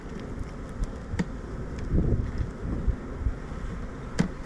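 Honey bees buzz inside an open hive during a spring inspection, the busy hum steady and close with a few sharper passes of individual bees near the microphone, alongside light wind rustle.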